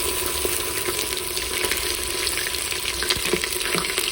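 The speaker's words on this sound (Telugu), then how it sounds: "జింజర్ గార్లిక్ పేస్ట్ ఫ్రై అయ్యింది." Ginger garlic paste frying in a pan with whole spices, giving a steady, close crackling sizzle with faint scraping, heard alone throughout.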